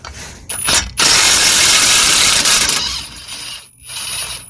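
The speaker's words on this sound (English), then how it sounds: "So now we can use impact wrench on it." Impact wrench hammering on a suspension control arm bolt of a Volvo XC60, a loud close rattling burst of about two seconds, preceded by a brief start and followed by a shorter second burst.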